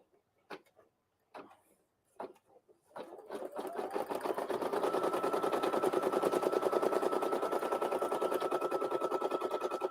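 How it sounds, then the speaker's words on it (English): An embroidery machine sews a placement stitch for a lattice-top in-the-hoop project, starting after a few separate clicks and then running in a steady, rapid mechanical chatter that stays loud and even to the end. "now we need to stitch our placement stitch for our lattice top"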